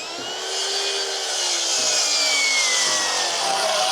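Power saw cutting an 18-degree bevel through a wooden roof rafter while framing roof trusses, a loud continuous whining cut that rises and holds steady for several seconds, close by.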